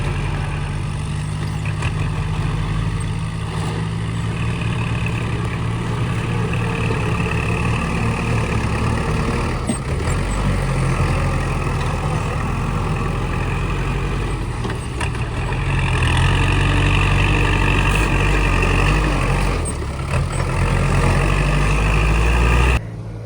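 A large farm vehicle engine runs steadily at a deep, heavy idle in a rice field, loud and continuous throughout with no voices over it.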